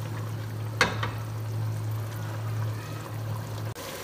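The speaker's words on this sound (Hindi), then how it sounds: "अब इसकी करेंगे भुनाई और इसका जो सारा पानी है वो कर देंगे हम" Mutton frying over full flame in half a cup of oil in a pan for moong dal gosht, a steady close sizzle and bubbling hiss with a low hum and a couple of brief clatters.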